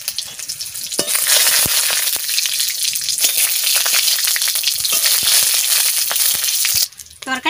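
Dry red chilies crackle and sizzle in hot mustard oil, a loud, dense frying hiss with sharp pops running for several seconds before cutting off abruptly near the end.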